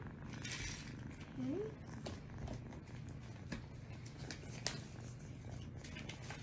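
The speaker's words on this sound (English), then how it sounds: "You purr so loudly." A low, steady purr rumbles continuously close by, with a faint voice briefly in the background.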